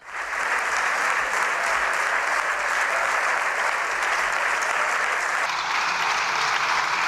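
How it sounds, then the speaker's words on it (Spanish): Deputies in the Spanish parliament on their feet giving Pedro Sánchez a sustained ovation, dense continuous applause from a large chamber, loud and even throughout. "ponerse en pie y empezar a aplaudir, claro, a su capitán"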